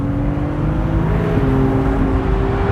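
A Ferrari 296 GTS engine in third gear on an open-top drive revs hard and steadily, its rising tones stepping upward with a brief shift-like blip partway through, loud and close.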